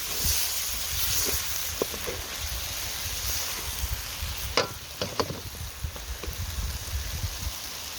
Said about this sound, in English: a few moments to cook out the rawness of the spices and just get it well mixed